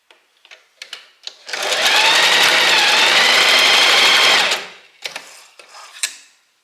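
A sewing machine stitches two fabric pieces of a wrap dress together in one continuous loud run of about three seconds, bracketed by a few sharp mechanical clicks and taps before and after.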